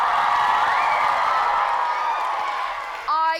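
A school audience at a children's book awards ceremony cheers loudly and steadily, a dense wash of many young voices that holds for several seconds before a brief burst of higher shrieks at the end.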